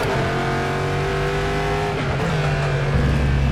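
A Chevrolet Corvette GTE race car engine in the rFactor 2 racing simulator, a loud, continuous engine note holding near-steady pitch with a gear change partway through, close and alone.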